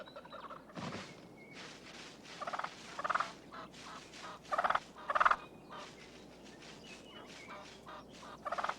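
Rio Grande wild turkeys gobbling in repeated loud rattling bursts, several calls rising above a quieter background of softer clucks and yelps, fairly close and with no voices.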